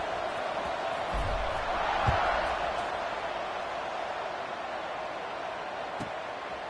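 Crowd buzzing in a Madden football video game: a loud, steady roar of stadium noise that fills the whole stretch, with a brief thump near the middle and no clear voices.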